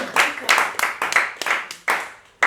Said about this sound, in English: So would you please give Maura a great round of applause?